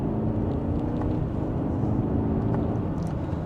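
A 2025 BMW X4 xDrive30i accelerates in sport mode from third gear, heard from inside the cabin as a steady, loud, low engine drone with road rumble and no talking.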